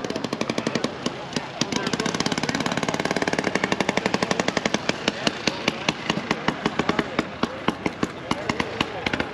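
A vintage 1971 Arctic Cat Puma 440 snowmobile engine runs close by at a snowmobile show, its loud, rapid, sharply pulsing two-stroke crackle continuing evenly throughout.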